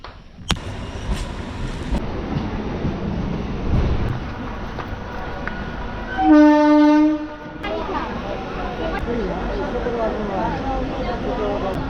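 A passing Hazarduari Express passenger train rumbles steadily, with a single loud horn blast partway through, while people talk nearby.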